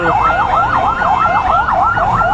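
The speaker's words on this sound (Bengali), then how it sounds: "এর ভিতরে অ্যাম্বুলেন্স ট্যাম্বুলেন্স কত রয়েছে" An ambulance siren wails in a fast, steady up-and-down pattern, loud and continuous, over the rumble of a traffic jam on the Jhenaidah–Magura highway near Hatgopalpur bazar.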